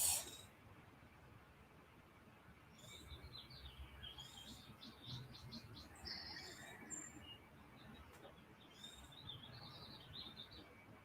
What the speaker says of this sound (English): We're in the Temple of Joy, so we have the birds singing